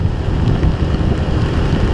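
Rain and wind during a Suzuki Gixxer motorcycle ride in a storm, a dense, steady roar of wind buffeting and rain noise close to the microphone, continuous with no talk.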